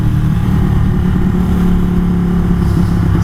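A Ducati motorcycle engine revs loud and close, a steady, dense mechanical roar that holds throughout with no pauses or talk.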